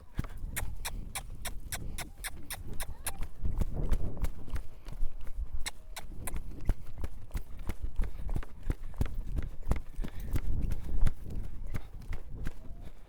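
Steady hoofbeats of a young horse clip-clopping at a walk, sharp regular strikes with a faint voice underneath.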